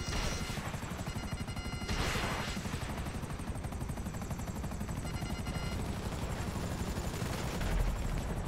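A helicopter flies in a combat video game, its steady rotor drone running throughout alongside bursts of gunfire and impacts.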